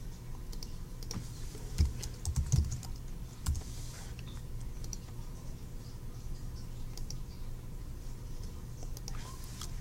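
Someone types on a computer keyboard to re-enter spreadsheet values, producing quick irregular clicks in short bursts over a low steady hum, close and fairly quiet with no talking.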